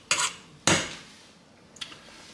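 A spoon stirs rice pudding in a cooking pot, giving two sharp metallic scrapes close together, then a fainter clink after a short pause.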